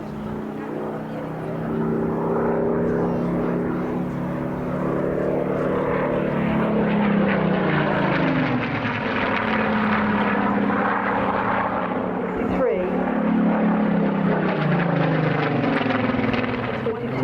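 A Spitfire flies past at a 2024 Longleat air display, its propeller engine a loud, steady drone whose pitch rises and falls as it passes, continuous through the whole stretch.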